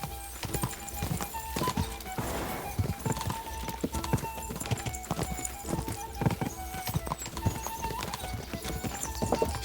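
A video-game horse trots in a steady, close clip-clop of hooves, broken by a whinnying neigh early on, while the hoofbeats carry on throughout.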